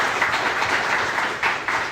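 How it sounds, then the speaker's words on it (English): An indoor audience at a data technology meetup claps steadily for the speakers, a dense and even wash of applause that lasts throughout with a few louder surges. "Another round of applause for all of our speakers."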